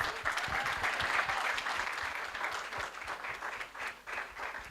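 Audience applause in a hall at a digital governance event, a dense steady clapping that fills the space for several seconds and fades slightly toward the end.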